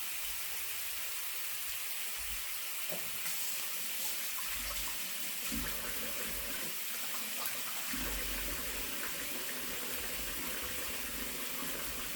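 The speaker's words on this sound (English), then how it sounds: "Wash your slimy hands." Tap water runs steadily as hands are washed after handling raw bacon, a constant close rushing stream with slight splashy changes and no voices.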